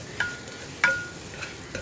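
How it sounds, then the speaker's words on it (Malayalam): Spice powders for Kerala-style dal curry stirred in a pan, a few soft scraping strokes with faint sizzling between them, close and quiet with no talking. "ഈ പൊടികളുടെ ആ ഒരു റോ ടേസ്റ്റ് മാറി വരുന്നത് വരെ ഇളക്കി കൊടുക്കുക"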